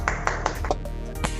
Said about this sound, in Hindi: आप लोग अपने वीडियोस को ऑन कर लें और तालियों से स्वागत करें